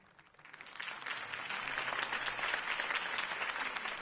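Crowd applause at a campaign rally in a Batman Telltale game scene, swelling quickly from a few claps into a dense, steady ovation that holds without voices.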